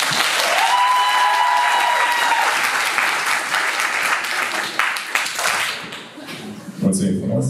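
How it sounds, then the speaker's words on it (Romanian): A live audience at a student-union podcast event for International Roma Day breaks into loud, dense applause that gradually thins and fades over several seconds. "pe care vreau să-i dai și multe aplauze"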